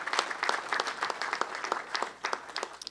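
An audience applauds at an event with the Illinois Attorney General, a steady spread of distinct hand claps from many people, moderately distant and continuing for several seconds without talk.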